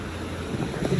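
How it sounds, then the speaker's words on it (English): Water rushes down the Gangplank Falls raft slide at Typhoon Lagoon water park in Walt Disney World, a brief loud roar and splash mixed with wind buffeting the microphone. "A lot of water coming down today."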